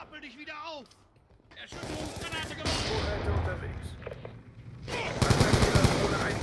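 Automatic gunfire and bursts in the shooter game Call of Duty: Black Ops 2, loud rapid volleys with explosive cracks, with someone talking over the shooting at times.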